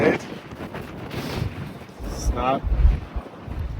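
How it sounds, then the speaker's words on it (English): Strong outdoor wind batters the microphone in heavy uneven gusts and low rumbling bursts beside an abandoned 1978 Ford Bronco, while someone says a few words. "It's so windy out here"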